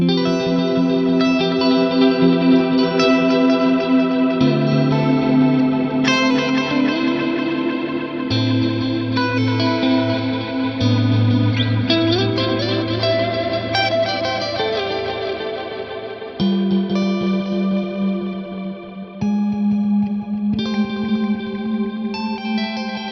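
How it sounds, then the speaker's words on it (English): Guitar notes ring out through a lush ambient delay on a Fractal FM3 with high feedback, echoes repeating and blending into a shimmering, spacious wash that sustains without pause. "This is a beautiful ambient delay."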